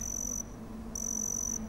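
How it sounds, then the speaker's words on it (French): A cricket chirps in two long, steady high-pitched trills separated by a short pause, fairly close and with no other sounds. "on a le chant du grillon qui défile"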